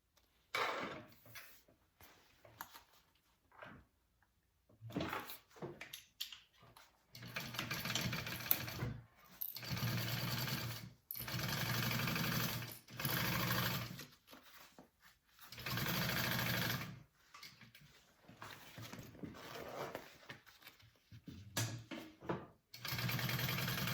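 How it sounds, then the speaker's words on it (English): A home sewing machine stitches a quarter-inch seam on a fabric pouch with its lining, running in repeated bursts of steady mechanical whirring separated by short pauses, close and moderately loud with no talk. "Sew that down at a 1/4 inch."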